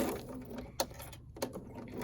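A sewing machine stitches a foundation paper pieced quilt block, giving a short run of close mechanical stitching with a couple of sharper clicks and no speech.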